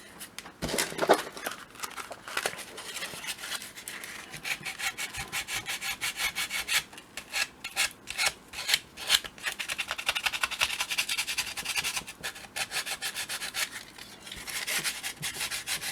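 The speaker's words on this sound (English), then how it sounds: "I'll know more once I get it sanded down." Plastic model joints being sanded smooth by hand, a steady rasping scrub in quick repeated strokes, close and fairly quiet, with no talking.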